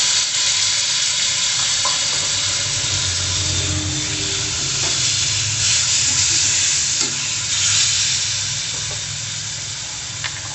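Chopped tomatoes go into a pan of frying cut onions, setting off a steady, close sizzle with scraping stirs and occasional clinks, with no voices over it.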